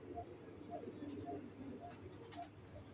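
A pigeon coos softly in repeated low, throaty notes against a faint background murmur, with quiet talk nearby.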